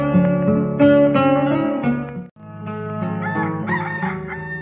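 A rooster crows loudly and close, a long drawn-out call followed by another crow after a brief pause, with no other sounds around.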